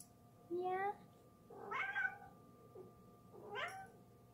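A pet cat meows three times, drawn-out and rising-falling wails spaced about a second apart, close and fairly loud over a low background hum, with no speech.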